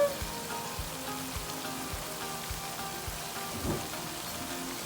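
A steady, crackling sizzle of tortilla pieces frying in hot oil, with occasional soft knocks and pops over the continuous hiss.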